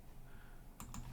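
Computer keyboard being typed on while entering an email address, a couple of quick close key clicks near the end of a short quiet stretch.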